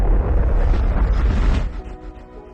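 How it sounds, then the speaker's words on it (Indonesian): Atomic bomb explosion over Hiroshima in 1945 as a dramatic effect: a loud, deep, roaring blast that rumbles for about two seconds before fading, with no speech. "Amerika menjatuhkan bom atom ke kota Hiroshima."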